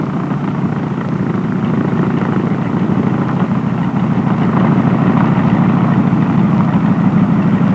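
A military-style aircraft's engine from an old North American Aviation training setting rumbles steadily as the plane taxis out, a loud continuous drone with no voices.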